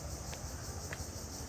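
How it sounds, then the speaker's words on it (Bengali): Crickets chirping in a village, a dense, steady high-pitched trill running through the whole stretch, with a few brief brighter accents, moderately loud under faint background noise and no speech. "ঝিঝি পোকা ডাকতেছে,"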